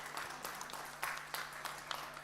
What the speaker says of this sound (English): give a round of applause for Morten